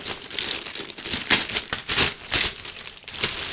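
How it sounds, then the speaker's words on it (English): Packaging crinkles and rustles close to the microphone in uneven bursts while a heavy, well-taped Tascam UH-7000 audio interface is unboxed. "Like the sound of that rustling in the microphone."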